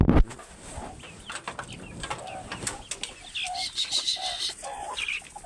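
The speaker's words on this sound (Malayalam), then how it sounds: "കോഴികളുണ്ട്." Hens in a backyard chicken coop give soft, scattered clucks and short calls, faint and close, amid light rustling and shuffling.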